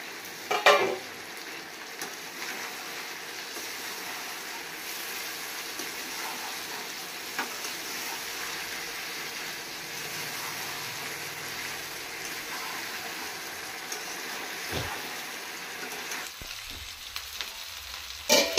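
Chopped tomato frying in a hot pan, a continuous loud sizzle with occasional scrapes and clinks of stirring, near and steady with no talk.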